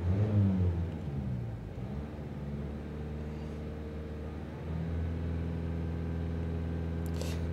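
A Peugeot Partner 2017 van's 1.6 HDi diesel engine, with a NOx sensor heating circuit fault, blipped briefly then settling into a steady low idle rumble that steps up slightly partway through, close by and with no talking.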